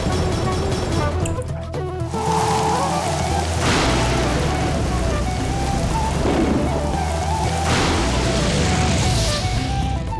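Heavy rain pours steadily on surfaces with a dense hiss, loud and continuous, and low booms like distant thunder roll in twice within an animated scene.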